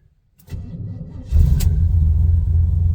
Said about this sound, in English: turn the key, and she's running